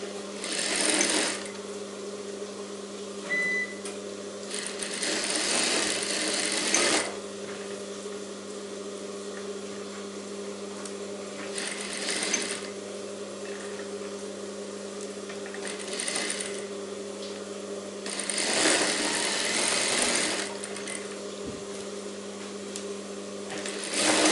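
A sewing machine runs double stitching on a princess-cut blouse in several bursts of steady whirring, each a few seconds long with short pauses between, the hum of the motor running underneath throughout.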